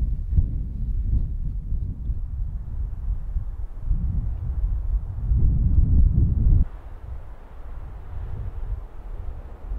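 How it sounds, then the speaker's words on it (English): Strong wind gusting across the Utah desert on a morning of truck camping, a loud, steady low rumble of buffeting air against the microphone that swells toward the middle, then drops abruptly to a softer, steadier roar. "It is a super windy morning here in Utah."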